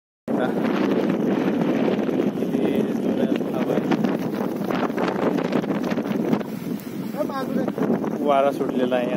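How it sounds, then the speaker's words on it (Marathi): Wind gusts steadily across an exposed mountain trek on the climb to Kalavantin Durg near Prabalgad, roaring and buffeting the microphone almost without pause, with voices faintly beneath. "वारा सुटलेला आहे आता."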